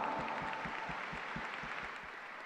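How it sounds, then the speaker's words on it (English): An audience at a school district general assembly applauds, broad steady clapping with a few rhythmic claps in unison pulsing through, fading slightly toward the end. "Let's give everyone a big round of applause."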